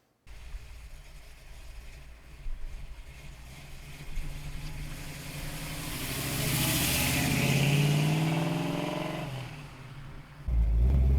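A 1967 Ford Mustang Fastback engine runs and revs up, swelling into a loud sustained roar through the middle before easing off, with a heavy low rumble at the end, no talking.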